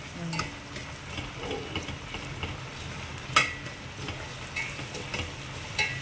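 Onions frying with salt in a pan for penne pasta in red sauce, a soft steady sizzle with occasional stirring scrapes and a sharp clink of a spoon, heard close and without talk.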